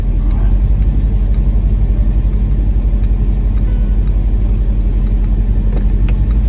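A Mercedes ML55 AMG engine idles in a deep, steady rumble while its 722.6 automatic gearbox is shifted between gears, close and loud with faint ticking above.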